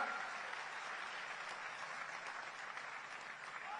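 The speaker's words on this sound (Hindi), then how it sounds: "तालियों में कंजूसी नहीं, जोरदार तालियां दोनों हाथ उठाकर" A crowd applauds to welcome the chief minister at a public gathering, a steady, fairly faint wash of clapping that holds evenly throughout without a break.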